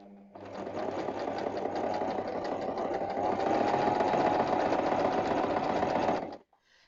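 Around the outside of a Christmas quilt block, a sewing machine hums in one long, steady, close run that stops abruptly near the end, with no voices.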